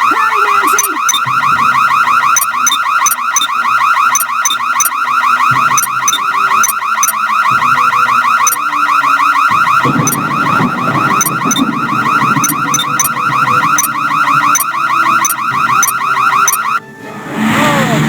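A car-style alarm blares in the Nancy Drew game Stay Tuned for Danger, a loud repeating electronic siren pattern cycling continuously for about seventeen seconds before cutting off abruptly.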